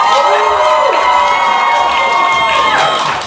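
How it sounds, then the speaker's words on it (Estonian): A live audience at a dating-show taping cheers and whoops loudly to vote for a contestant, a dense crowd roar with shrill shouts and rising cries sustained throughout. "teeme korra lärmi, kui me arvame, et Ave peaks saama selle paketi endale"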